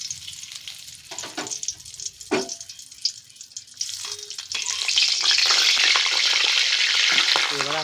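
Two bay leaves drop into melted ghee for carrot halwa, bringing a steady, close sizzle and hiss that swells and holds after a few light clinks and stirring taps.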